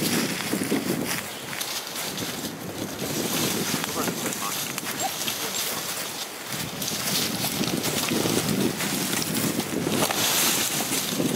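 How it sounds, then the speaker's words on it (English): Strong wind roaring steadily across the microphone outdoors, a continuous loud rushing noise throughout. "Because it's cold and windy."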